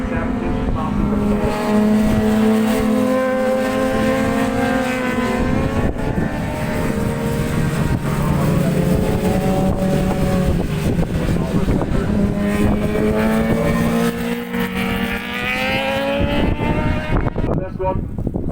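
Superbikes race at Kirkistown circuit in Northern Ireland, their engines loud and continuous with rising and falling pitch as they pass, while a commentator talks over the roar.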